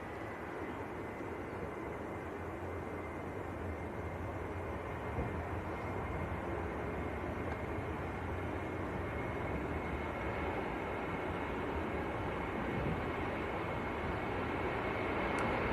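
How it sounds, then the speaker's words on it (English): An EasyJet airliner from Geneva, Swiss-registered, touches down at Manchester Airport with a broad, steady jet roar that holds constant and slightly swells toward the end, heard from a distance with no talking. "So this is EasyJet from Geneva, just touching down."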